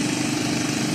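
Steady, loud motor drone of a rescue boat running through floodwater, a continuous mid-low hum with no speech over it.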